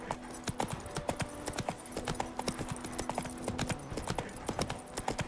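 Roach the horse in the Witcher 3 video game clip-clopping at a steady walk, the hooves making close, even, rhythmic knocks that continue throughout with no voices.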